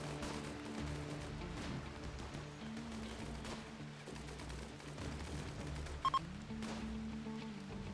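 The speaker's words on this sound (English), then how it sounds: "And here comes the machine guns and the miniguns." Machine guns and miniguns in the colony game RimWorld fire continuous sustained bursts, a dense mid-distance rattle running throughout at moderate level, with a couple of brief sharp clicks near the end.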